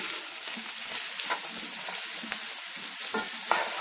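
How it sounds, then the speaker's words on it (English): Mushrooms fry in bacon fat in a pan with a steady close sizzle, broken by light clicks and scrapes from stirring at irregular moments. "to that pan we're going to add the mushrooms and cook until softened and golden"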